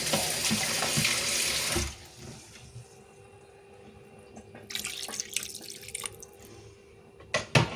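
Water gushes in a loud, continuous stream into a cooking pot of tomato chili curry for a couple of seconds, then stops; quieter splashing and clattering follow, with no speech.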